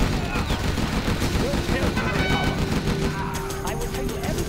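Dense gunfire from the real-time strategy game Command & Conquer Generals Zero Hour, rapid overlapping machine-gun bursts and shots in a continuous loud barrage with battle effects.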